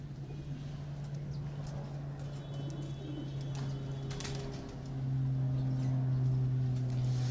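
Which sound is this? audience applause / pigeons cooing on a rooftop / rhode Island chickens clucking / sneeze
pigeons cooing on a rooftop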